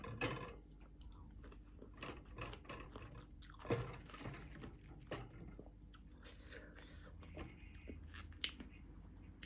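Someone bites and chews small fruits one after another, soft crunches and wet squishes close to the mic with quiet pauses between bites.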